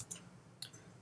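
Computer mouse clicks on a desktop, two quick, faint, sharp clicks in a quiet room.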